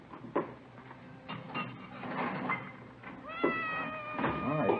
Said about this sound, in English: It's a nice cat you got there. Siamese?